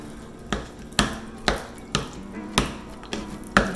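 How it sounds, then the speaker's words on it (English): A spoon smashes cooked stuffed pasta shell filling down into a bowl, giving seven sharp, evenly spaced thumps and scrapes close by, with no voices. "I'm just gonna smash that down so I can get everything into the bowl"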